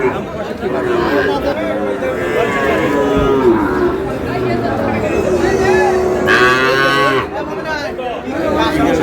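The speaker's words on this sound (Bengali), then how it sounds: "যেদিকে তাকায় গরু আর গরু" Sahiwal bull calves and other cattle at a busy Faridpur livestock market low in long, loud moos over constant crowd chatter and nearby people talking.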